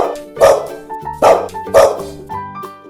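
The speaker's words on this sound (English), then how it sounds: "Dog." A dog barks three times in close succession, loud and near, with short whimpering tones between the barks.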